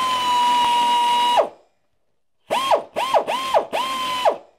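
A ratchet wrench works a transmission mount bolt on a Mercedes W126: a long run of rapid clicking, a pause of silence, then four short, close ratcheting bursts in quick succession.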